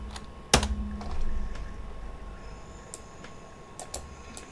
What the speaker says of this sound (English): We can type in clamp.